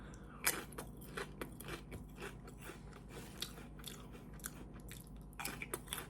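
Crunchy stacked potato chips being chewed up close, with a sharp crunch at the first bite and then steady, quiet crackling mastication that continues throughout without any talk.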